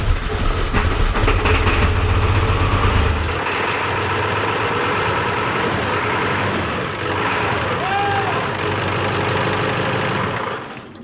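Ford 7.3 Powerstroke diesel engine in a truck bought at auction, starting with a heavy low roar that settles after a few seconds into a loud, steady clattering idle, close by, until it cuts off at the end.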